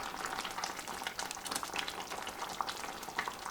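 Tomato soup cooks in a pot, giving off a steady close bubbling sizzle with faint scraping as it is stirred, continuous throughout and with no talking.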